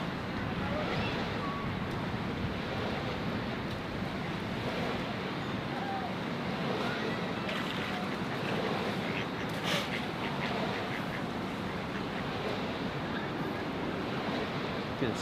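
Ocean swell rolls and surf breaks at a point break, a broad continuous roar of waves mixed with wind buffeting the microphone, heard from the shore.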